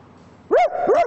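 A voice imitates the bark of a rich household's dog, two quick, close, loud yip-like barks run together after a brief silence.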